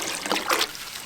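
Water trickles and splashes as it is poured into a container for a donkey in an outdoor pen, a brief, soft liquid pour that swells mid-pour and then fades, with no one talking.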